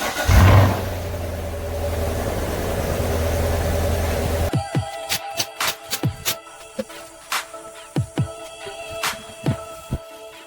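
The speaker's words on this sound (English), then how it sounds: "Enjoy this cold start." A C7 Corvette V8 fires up from cold with a loud starter crank and a high-idle roar that holds steady for several seconds, then cuts to quiet clicking and tapping noises.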